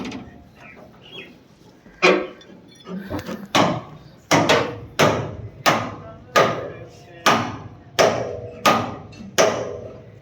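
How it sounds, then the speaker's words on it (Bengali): Sharp metallic clanks from nuts and bolts being loosened on a rail bridge girder, about ten loud, close hits in a fairly even rhythm after some softer knocks. "এই নাট বল্টুগুলো খোলা হচ্ছে।"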